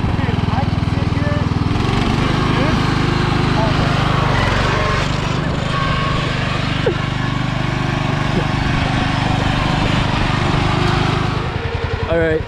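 A racing lawnmower engine runs loud and close in a steady, continuous drone with a fluctuating pitch, and no pauses throughout.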